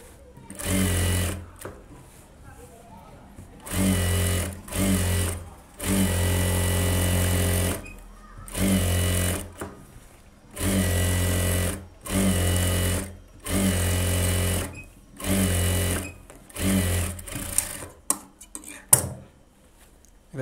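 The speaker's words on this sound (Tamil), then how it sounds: "இப்போ லைனிங்கில் வந்து சுற்றி தையல் போட்டுக்கலாம்." A sewing machine stitches around the lining of a silk pattu pavadai dress, running in repeated loud mechanical bursts of a second or two with short pauses between, close up, ending with a few quick clicks.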